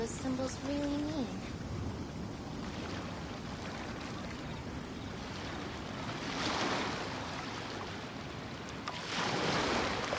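Ocean waves roll and wash steadily in the Genshin Impact game world, a soft continuous surf that swells and recedes, with a few brief tonal game chimes near the start.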